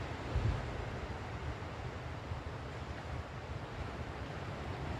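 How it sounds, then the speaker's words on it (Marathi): Sea surf on Dapoli beach, a steady low wash of waves with constant rumbling noise and some wind buffeting the microphone, no voices, fairly even in level throughout. "शांत आणि शांत असा हा निसर्गरम्य दापोलीचा समुद्रकिनारा"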